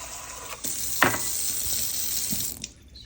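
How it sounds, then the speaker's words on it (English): Cool water runs steadily from a tap into a cup in a kitchen for about two seconds, close and fairly loud, then cuts off abruptly, with no speech. "I'm gonna put some new cool water in here"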